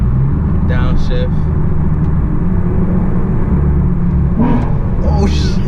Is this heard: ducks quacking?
no